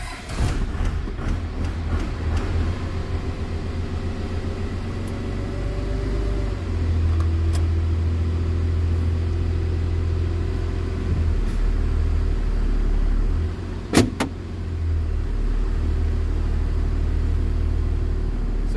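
A 12-valve Cummins diesel swapped into a 3rd gen truck idling steadily after starting, a loud low rumble with brief louder bursts.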